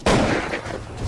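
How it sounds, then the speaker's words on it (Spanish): Gunshots as a sound effect in a Spanish-language radio drama, a loud broadband crack at the start followed by a sustained rumbling, echoing burst of fire lasting about a second, with no voices. "Repentinamente se escucharon disparos"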